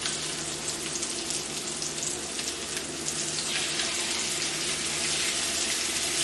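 Chicken pieces sizzle steadily in a hot pan after being turned over, a dense, continuous hiss that stays close and even throughout with no talk.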